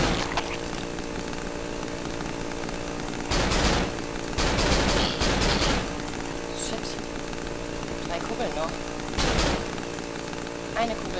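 Automatic gunfire from the horror game Cry of Fear, heard as a few loud rapid bursts around the middle and near the end over a steady droning game background, with a voice talking in places.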